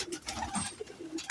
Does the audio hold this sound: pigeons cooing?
yes